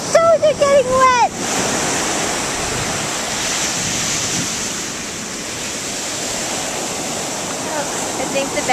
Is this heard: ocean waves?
yes